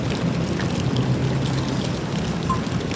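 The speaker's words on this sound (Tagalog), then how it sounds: "Gosh, it's raining!" Rain falling outdoors near a reportedly haunted hospital in Cavite, a steady soft patter and hiss with a low rumble underneath, continuous and moderately loud, with no voices.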